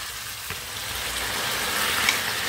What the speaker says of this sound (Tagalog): Tapos natin gisahin ang sibuyas.